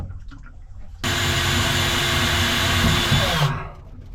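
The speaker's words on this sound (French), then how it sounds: "Et moi je vais les percer d'en bas là-bas." A power drill bores holes from underneath during an improvised steering repair using a boat hook; a loud, steady whirring burst runs about two and a half seconds close by, then cuts off abruptly.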